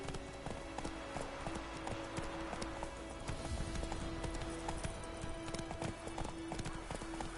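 Roach the horse in The Witcher 3 walking with steady, even clip-clop hoofbeats at moderate volume over a soft ambient background, a faint voice briefly present.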